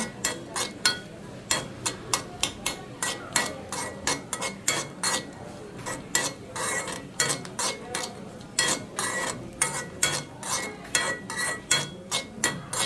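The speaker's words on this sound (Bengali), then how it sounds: "এটা আমি হালকা বাদামি করে একটু ভেজে নিব ঘিয়ের সাথে" Nuts frying lightly in ghee in a pan for homemade payesh, with a spoon clinking and scraping against the metal in a quick, steady rhythm over a faint sizzle; no one speaks.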